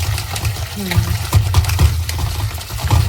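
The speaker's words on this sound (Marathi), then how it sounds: "असं दोन तीन पाण्याने धुवून घ्यायचं चांगलं खळा खळा" Bitter gourd is rinsed and rubbed by hand in water two or three times, close sloshing and splashing in bursts, with someone talking over it.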